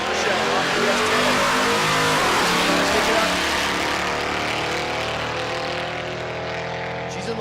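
A Chevrolet S10 pickup and a Corvette launch side by side at a drag strip during Rocky Mountain Race Week, engines roaring loudly as they accelerate away with rising, fading tones, while a voice talks over them.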